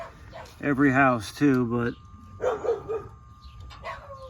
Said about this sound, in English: we got dogs barking on every